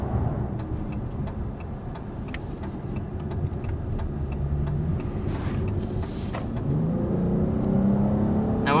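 Quiet cabin of a 2021 Dodge Charger GT on the move: low road rumble and engine hum, with a steady ticking like a turn signal and a gentle rise in revs toward the end.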